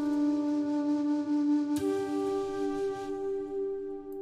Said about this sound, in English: last element of the melody is this flute from SRX Studio